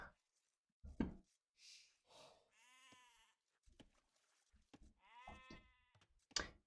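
Sheep bleat in a strategy game, several wavering, nasal calls coming one after another at moderate distance, mixed with short knocks and clicks in between, with no one talking.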